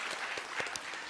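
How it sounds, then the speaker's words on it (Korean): A church congregation at an evening revival service breaks into brief, dense applause, a short burst of many hands clapping together. "우리 한 번 더 큰 박수로 좀 축복해 주시면 감사하겠습니다"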